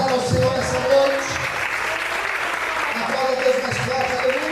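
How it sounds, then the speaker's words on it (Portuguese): Congregation applauding during an evening church service: steady, continuous clapping mixed with voices and talk, moderately loud throughout. "Você pode aplaudir e exaltar ao Senhor essa noite"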